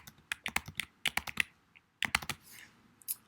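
Computer keyboard keys tapped up close in two quick clusters of crisp clicks, as when entering a keyboard shortcut, separated by a short pause.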